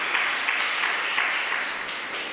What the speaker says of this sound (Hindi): जोर से ताली पाड़कर प्रभु को महिमा दें